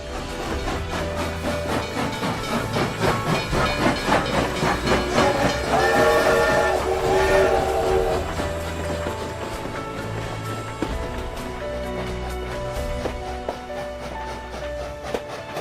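A steam train rumbles along with a steady rhythmic clatter, and a whistle sounds briefly partway through.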